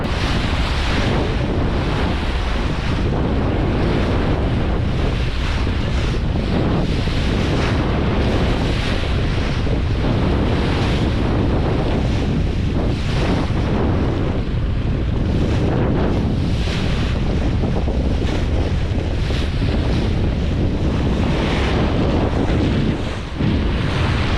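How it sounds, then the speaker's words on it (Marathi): Fishing boat heading out to sea from a Mumbai village for pomfret fishing, a loud steady rush of wind and waves with engine rumble underneath, continuous with no speech. "आता बोट आपली गावामधून सुटली आहे"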